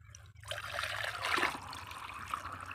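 Water is poured from a container into a glass, a steady splashing trickle that starts abruptly and runs continuously at moderate level over a low background hum.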